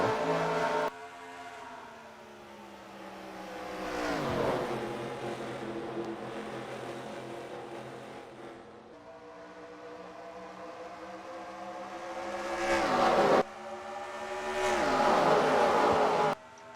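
NASCAR race cars roar around the Homestead oval, engines swelling and fading as each pack passes, loud whining passes with Doppler shifts repeating over the stretch.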